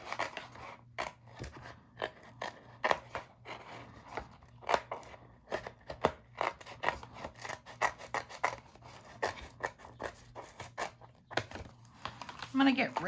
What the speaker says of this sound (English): once I can get my scissors in there by cutting some out